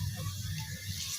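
Garlic dropped into golden-brown frying onions for pilau, giving a steady close hiss and sizzle of hot oil that stays even and fairly quiet throughout.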